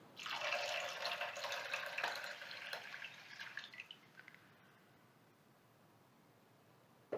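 Milk pours steadily into a pot of rice for a few seconds, then trickles and drips before fading to near silence.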